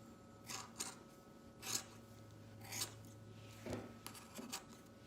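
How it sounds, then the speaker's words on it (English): Scissors snipping through feather craft material, a few separate, quiet cuts at close range, spaced irregularly in a hushed room. "You're going to want to cut straight up like this."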